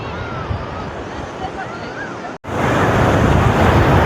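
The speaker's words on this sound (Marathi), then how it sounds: "खूप सुंदर असा समुद्र किनारा इकडे दिव्यागरला." Ocean surf breaking on the beach at Diveagar on the Konkan coast, a steady loud wash of waves with wind buffeting the microphone, briefly cut out once midway before the roar resumes.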